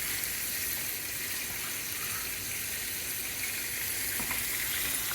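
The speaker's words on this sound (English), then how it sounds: "Right now we're just braising our roast, and we're seasoning it with a carrot and onions." A chuck roast braising in a pot with carrot and onions gives off a steady, soft sizzle and bubble that runs evenly throughout, with a few faint clicks near the end.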